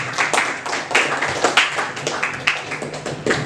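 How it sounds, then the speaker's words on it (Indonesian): A classroom of students claps in a dense burst of quick, overlapping hand claps, close and lively throughout, with no talking over it. "Beri tepuk tangan untuk Dwi Angelica."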